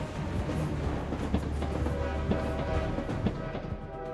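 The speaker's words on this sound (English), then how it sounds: "The head of the train gallops over the bridge, segment after segment, following behind it" A train in the Arknights game rolling across a bridge, a steady low mechanical rumble with repeated rhythmic clacks as segment after segment passes, loud and continuous throughout.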